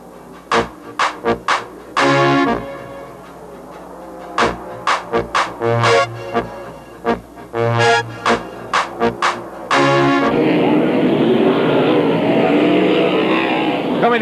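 Sprint cars race on a dirt track at the 1991 Mini Gold Cup, engines snarling in a string of short, tonal revving bursts as they pass, then swelling into a sustained, broad roar.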